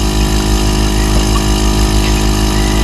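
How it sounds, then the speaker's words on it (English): Air vacuum system pulling liquid through a funnel while making silver nitrate: a loud, steady mechanical hum with a strong low drone and even pulsing, close and constant for a few seconds. "you don't have to have this air vac system. It just helps this drain and pull through the funnel a lot faster"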